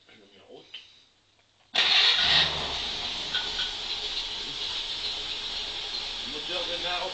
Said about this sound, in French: Le moteur démarre en perte de tour.